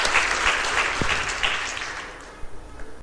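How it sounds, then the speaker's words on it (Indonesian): An audience at a church testimony claps loudly at first, then the applause thins and fades toward the end, leaving a few scattered claps and faint room noise. "Ya, beri tepuk tangan"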